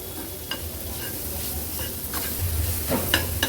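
Ground chutney with salt sautés in oil for an Agri-Koli style fish stuffing, giving a steady close sizzle broken by several sharp spatula scrapes and taps against the pan.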